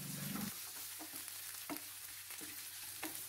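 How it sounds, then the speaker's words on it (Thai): Crispy-skin sausages are stir-fried in a pan for Thai-style dried chilli spaghetti, with a faint steady sizzle and light, regular scraping strokes of the spatula. "ผัดให้เหลืองหอมเช่นกันครับแล้วก็ตามด้วยไส้กรอก3อันครับ"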